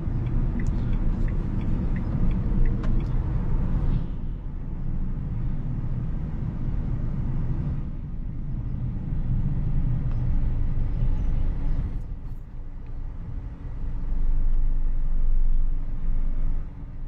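A car drives along a narrow village road near Chengam. A steady low engine and road rumble rises and falls slightly as the car moves, and a few faint higher noises come through early on.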